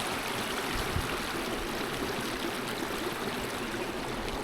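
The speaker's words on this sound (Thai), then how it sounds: "น้ำไหลจริงๆ" Clear stream water flowing in a rural village setting, a steady close rushing and gurgling that continues throughout with no voices.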